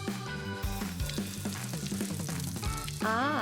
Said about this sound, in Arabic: ودلوقتي على الشاور